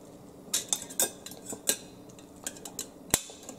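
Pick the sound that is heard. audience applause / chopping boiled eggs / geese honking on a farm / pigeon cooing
chopping boiled eggs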